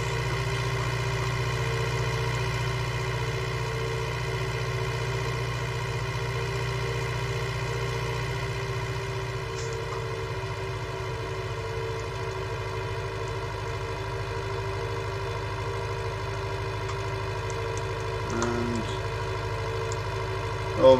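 A tractor engine running steadily on the road to the sugar beet factory, a continuous mid-level drone with a few light clanks near the end.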